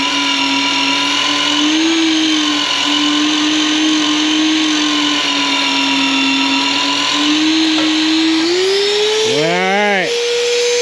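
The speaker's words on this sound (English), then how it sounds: "it was a little slow drilling that hole" A power drill boring a hole runs with a steady high whine that holds a fairly constant pitch throughout, rising slightly near the end before the motor winds down in a quick series of descending chirps.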